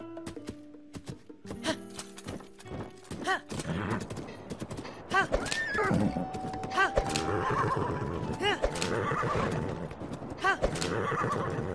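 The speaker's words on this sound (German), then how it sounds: "Ganons Pferd." Ganon's horse in The Legend of Zelda: Breath of the Wild whinnies several times over rapid, rhythmic hoofbeats of galloping, with a background score and occasional sharp bursts mixed in.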